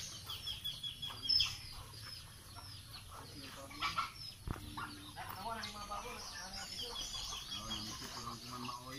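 Free-range chickens mixed with turkeys and other poultry cluck in scattered, irregular bursts at a fairly quiet level, with people talking faintly in the background.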